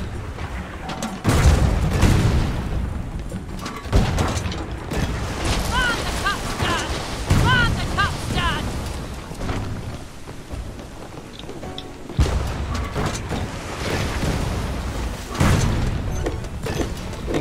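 Heavy ship cannons firing in a pirate naval battle in the game Blazing Sails: several deep, booming shots spaced seconds apart over a constant rushing sea-and-wind backdrop, with players chatting between them.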